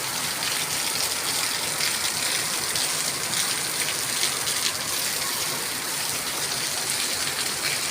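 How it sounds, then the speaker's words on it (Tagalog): Heavy rain pouring steadily outdoors on an avenue, a dense, constant hiss of drops at even loudness with no break. "Grabe ang lakas ng ulan guys"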